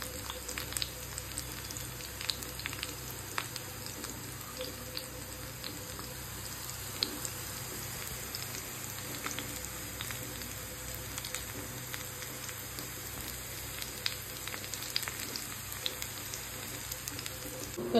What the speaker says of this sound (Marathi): स्लोली स्लोली स्प्रेड करत करत फ्राय करू आपण.